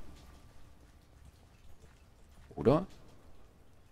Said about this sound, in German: Das habe ich auch schon lange nicht mehr gesehen. Dass es regnet.